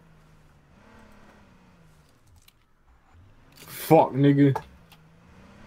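A car driven in H1Z1: King of the Kill, a low steady engine drone that dips briefly, under bursts of loud, close speech from players.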